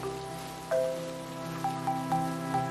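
Steady patter of rain falling, running under a bright tonal melody with a few rising chimes, continuous and fairly soft throughout.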